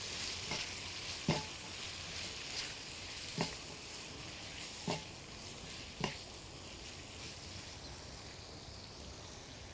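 Food sizzles in a pan while being stirred with a spoon during a shrimp and vegetable rice dish, a steady soft frying hiss broken by five or six sharp scraping taps.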